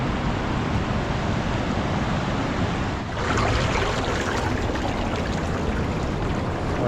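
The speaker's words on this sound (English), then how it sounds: "Look at that water raging." Loud, steady rushing roar of raging water at an old canal lock, a broad continuous wash that briefly dips near the middle and then returns a little brighter, with no voices over it.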